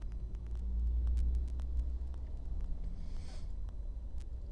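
A Long Island Rail Road train moves slowly into a siding at the east end of the line, a low rumbling drone with faint clicks, swelling slightly then settling into a steady distant hum.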